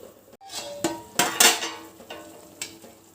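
Chicken biryani being stirred in a clay pot, a spoon scraping and clinking against the pot in a few distinct strokes with quieter scraping between, close by, no talk.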